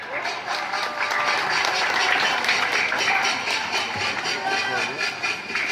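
A crowd claps in sustained applause at an Isra Mi'raj wayang gathering in Bangka, a dense rattling patter that swells and fades slightly, with voices mixed in.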